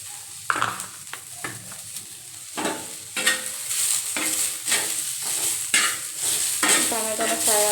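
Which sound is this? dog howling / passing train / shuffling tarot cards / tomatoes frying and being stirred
tomatoes frying and being stirred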